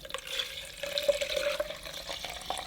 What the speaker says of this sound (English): I'm going to have to try and tip the water